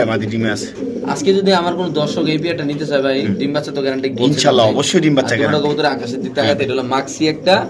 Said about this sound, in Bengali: কবুতরের ডাকটা দেখেন